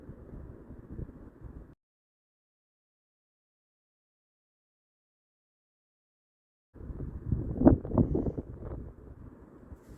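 Outdoor wind buffeting a microphone near garden plants, heavy low rumbling gusts that cut out abruptly and return several seconds later, louder and more turbulent.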